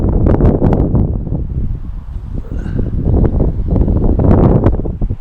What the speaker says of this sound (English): the wind is a-blowing